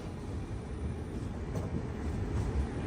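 A Kumbh Mela special train from Prayagraj rolls into Visakhapatnam Junction station, giving a steady low rumble with faint rhythmic clatter that builds slightly toward the end.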